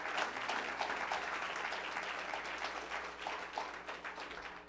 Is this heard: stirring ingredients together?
no